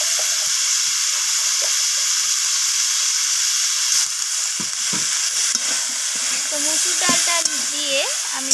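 Vegetables and masoor dal are stirred in a frying pan, making a steady, close sizzle broken by spatula scrapes, with a faint voice briefly toward the end.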